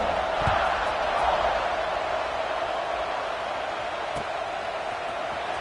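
Stadium crowd in a simulated football video game gives a steady, broad roar of cheering at kickoff after a touchdown, a constant wash of noise under a commentator's voice.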